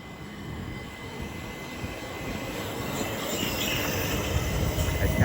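Southeastern passenger train pulling out of Orpington station toward London Charing Cross, a broad rumbling roar of wheels and traction that swells steadily louder, heard outdoors with no talk.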